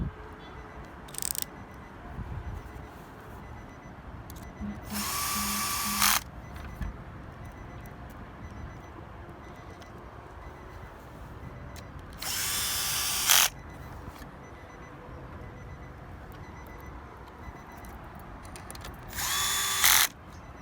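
A power drill drives screws to secure a CarPlay/Android Auto unit in a 2018–2019 Infiniti QX80, three loud bursts of about a second each against a quiet interior background.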